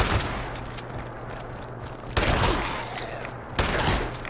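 Gunfire in the Fallout 76 video game, heavy sustained bursts with a couple of sharp louder volleys, loud and up close.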